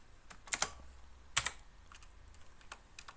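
Keys clatter on a computer keyboard, with two sharp bursts of clicks followed by lighter scattered taps, close and clear, with no talking.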